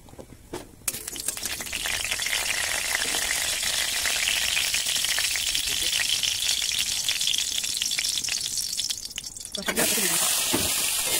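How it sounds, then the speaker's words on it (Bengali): Cumin seeds sizzle in a little hot oil in a wok while freshwater fish curry is cooked, a loud, steady crackling hiss that fills the clip and shifts slightly near the end. "এবার একটু জিরে ফোড়ন দিয়েছি,"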